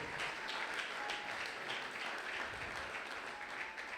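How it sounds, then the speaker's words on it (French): A church congregation applauds and cheers during a Sunday worship and thanksgiving service: dense, steady clapping fills the whole stretch at a constant level, with no clear voices standing out. "Est-ce que tu peux acclamer encore très fort pour Jésus? Acclame très fort, acclame très fort."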